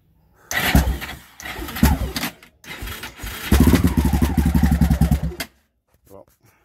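A Yamaha Raptor 660 ATV bored to 686 cranks and fires, then revs in loud close bursts with a rapid pulsing idle before cutting off abruptly.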